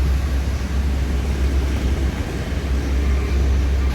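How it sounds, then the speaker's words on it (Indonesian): An Armada Indah intercity bus rumbles past close by, its deep engine drone and road roar holding steady and loud for several seconds. "ada bus lintas ya, apa dia nih, Armada Indah"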